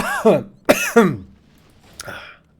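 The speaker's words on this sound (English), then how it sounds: "I'm coughing all the time" Three harsh, heavy coughs come close together near the microphone, followed by a short throat clear.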